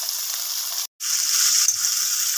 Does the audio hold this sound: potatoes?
yes